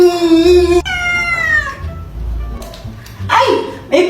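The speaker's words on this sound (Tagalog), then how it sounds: "May pusa pala kayo?" A pet cat gives a few drawn-out meows with falling pitch, fairly close, mixed with a short voice and some rustling near the end.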